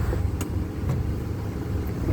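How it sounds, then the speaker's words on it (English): A second-hand Nissan Micra with a reverse gear that won't engage rolls forward in first gear, giving a steady, close low engine rumble with no speech. "So I put the car in first gear."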